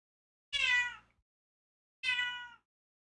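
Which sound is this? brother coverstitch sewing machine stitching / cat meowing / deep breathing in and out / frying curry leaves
cat meowing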